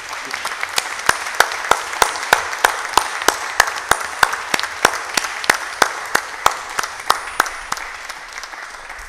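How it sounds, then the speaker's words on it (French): A crowd applauding steadily, with one sharp, evenly paced clap cutting through the dense clapping throughout. "je vous demande d'applaudir"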